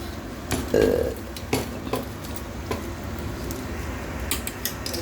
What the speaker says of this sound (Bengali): চিংড়ি পটল ঢেলে দেওয়া হচ্ছে